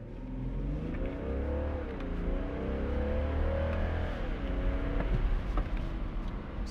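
A BMW 640d Individual diesel revs up close and accelerates hard. Its engine note climbs in pitch, dips at a gear change and climbs again in a steady, loud drone with no voices over it.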